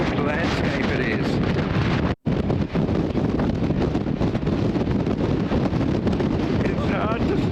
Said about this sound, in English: that wind is fierce